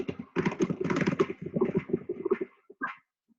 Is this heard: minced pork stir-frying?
no